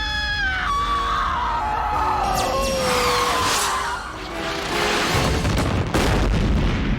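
Cartoon cannon fire at a fleeing spaceship in Futurama: a dense, loud mix of booms, whooshing descending tones and screams that runs without a break.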